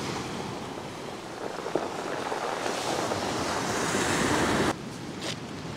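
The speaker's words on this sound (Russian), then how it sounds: "Накат и волны. И волны сгребают камни." Storm-driven sea surf on the pebble beach at Alushta in Crimea rushes loudly and steadily with wind noise over the microphone, a surge building then abruptly dropping near the end.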